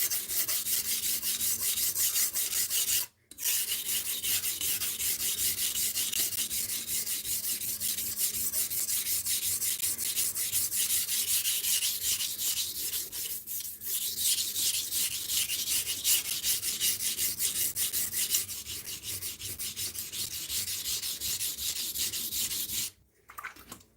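A knife blade is ground back and forth on a 400 grit whetstone coated with mud slurry, giving a steady, close abrasive rasping that runs almost without a break, with two brief pauses.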